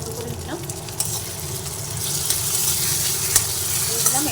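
Spices fry in a pan with cut tomato added for a vegetarian dish, giving a steady close sizzle with the scrape and clatter of repeated stirring throughout.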